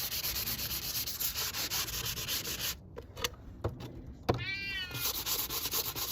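Steady rasping of sandpaper rubbed back and forth over a wooden cabinet drawer outdoors, close and continuous, pausing briefly midway while a cat meows nearby.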